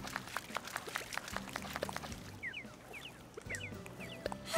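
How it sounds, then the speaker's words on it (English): Animal Crossing: New Horizons character splashing and clapping in water, with light sploshes and small plinking game chimes over a soft watery background, no talk. "We could clap in the water and splash a little bit."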